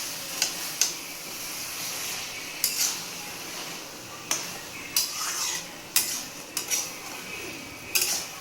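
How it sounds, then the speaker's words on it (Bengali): Water lilies being stir-fried in a pan to cook off their water, with a spoon or spatula knocking and scraping the pan in irregular sharp clacks over a soft background hiss. "এবার এটাকে কষিয়ে কষিয়ে জলটাকে মেরে দিতে হবে"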